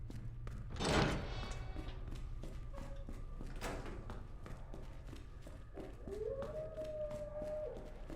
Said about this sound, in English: There we can hear the howl of the dogs.